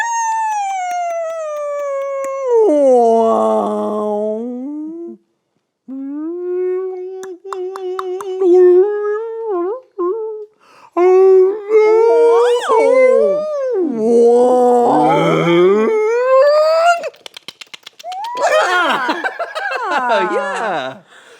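A human voice imitates whale calls with long, sliding howl-like tones and wavering pitch glides, loud and close, broken by short pauses over about twenty seconds.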